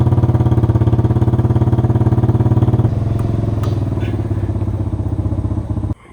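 Chevrolet C10 pickup truck engine idling and being driven forward into a work spot, a loud close rhythmic loping rumble that eases slightly partway through before cutting off at the end.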